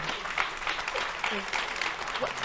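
Audience applause at an opening program honoring Emmett Till and Mamie Till Mobley, with dense, steady clapping from a crowd throughout and a faint voice underneath.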